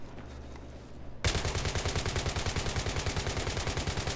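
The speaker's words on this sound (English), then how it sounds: "Be aware, I've spotted a hostile machine gunner, over." Machine gun fire in the video game Battlefield 3: after a quiet start, a loud, sustained rapid burst of evenly spaced shots runs to the end.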